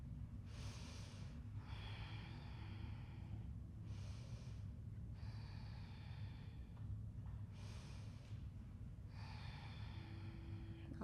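Calm, steady breathing during an Ashtanga yoga flow, several slow breath cycles alternating inhale and exhale in an even rhythm, close and soft with no voices.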